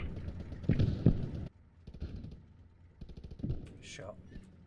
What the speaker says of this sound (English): Shots on the right, shots on the right.